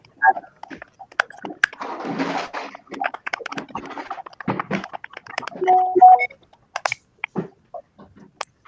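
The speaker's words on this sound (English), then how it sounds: "Is someone typing?" Scattered clicks and taps of typing on a computer keyboard, irregular and fairly close, with some soft shuffling noise between keystrokes.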